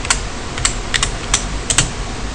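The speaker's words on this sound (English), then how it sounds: "Type apt dash get" Keys on a computer keyboard are typed while entering an install command in an Ubuntu Linux 14.04 terminal: about six sharp, close clicks in an irregular rhythm, with no talking.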